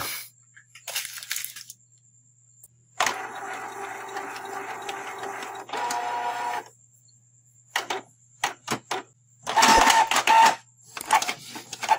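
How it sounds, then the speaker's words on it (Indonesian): A Canon iP2770 inkjet printer runs a text test page, giving a long stretch of whirring mechanical feed noise followed by several short clicking and rattling bursts of the print head and paper, close and fairly loud in a quiet room. "Sekarang coba kita tes print tulisan."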